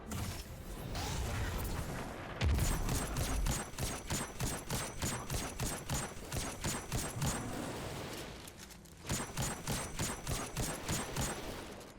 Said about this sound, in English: I'm going to go ahead and fire a rocket like that over there